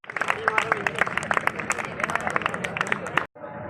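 A crowd claps continuously and briskly at a national youth day gathering in Karnal, with dense, steady applause and some crowd noise throughout before it cuts off near the end.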